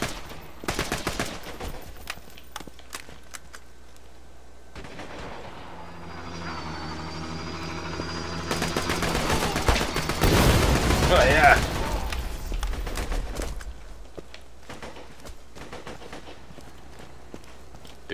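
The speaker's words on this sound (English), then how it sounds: "There is somebody else shooting at me." Gunfire in the video game Borderlands 2 comes as bursts of shots that thicken into a dense volley mid-clip, set against game background sound with someone talking over it.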